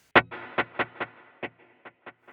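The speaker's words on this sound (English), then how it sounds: "Then there's a dual delay that's more ambient." Distorted electric guitar through an ambient dual delay, hard panned: a strong plucked note followed by a chain of echoing repeats that fade steadily in loudness, heard alone.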